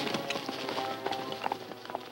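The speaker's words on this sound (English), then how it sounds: "Spook that horse out of there, Price." A horse gallops off in an old Western serial, its hooves clip-clopping in quick, irregular beats at moderate distance over a dense soundtrack background.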